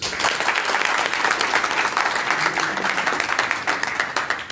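A crowd applauds at a ceremony welcoming a local football team, with dense, steady clapping from many hands filling the whole stretch. It stays loud and even, with no voices rising above it.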